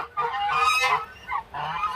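Geese just let out of their cage honk loudly and close by, in three harsh bursts with short gaps between.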